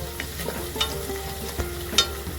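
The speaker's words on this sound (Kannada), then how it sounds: "ಅರಿಶಿಣ ಅರ್ಧ ಚಮಚ ಹಾಕಿ ಚೆನ್ನಾಗಿ ಎಣ್ಣೆಲಿ ಬಾಡಿಸ್ಕೊಳ್ಳಿ." Turmeric and fenugreek seeds frying in hot oil for chicken biryani, a steady low sizzle with occasional light stirring clinks from a spoon against the pan.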